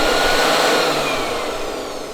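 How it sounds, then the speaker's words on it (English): An air blower set to speed 1 dries acetone-cleaned reed organ reeds, giving a steady, close, loud broadband rush of air that fades slightly toward the end, with no voices. "I'll move over to my blower, which I have set up here at a speed of 1,"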